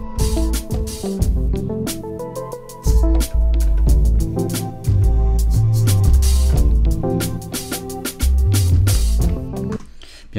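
A classic synth bass line played on the Arturia Mini V software synthesizer, with deep rhythmic bass notes pulsing under a busier layered synth backing, loud and continuous throughout.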